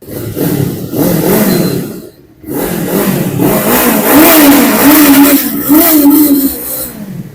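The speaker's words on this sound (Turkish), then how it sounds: "çift silindirin sesi biraz farklı tabii gördüğünüz gibi" A loud twin-cylinder RKS RS 400 motorcycle engine revs up and holds at high rpm, a gritty uneven throb with a brief dip and pause before climbing again.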